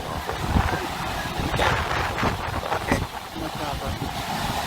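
Strong wind on an open hilltop roars steadily across the microphone, with gusty buffeting that swells and eases throughout, loud and close.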